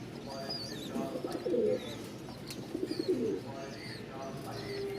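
Pigeons, including high-flying racers and Damascene birds, coo repeatedly at a bustling pigeon market in Mirpur-1, Dhaka; the throaty calls come up close over a steady murmur of background voices.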